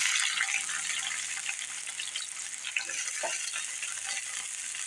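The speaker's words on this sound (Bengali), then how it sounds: "আদা রসুন আমি আগে দিয়ে দিব তেলের মধ্যে" Ginger and garlic sizzle in hot oil for a dish of yogurt chicken, a steady bright crackle that holds level throughout, with a few soft stirring scrapes coming through near the middle.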